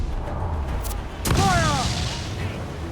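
A booming ship cannon volley in Assassin's Creed 4 Black Flag erupts once, loud and broad, with crew voices shouting around it over steady sea and ship ambience.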